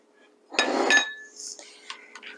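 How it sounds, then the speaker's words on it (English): A spoon works through cookie dough with molasses in a bowl, giving a short close burst of scraping and clinking, then a few lighter taps and clinks trailing off. "we're going to mix this all together"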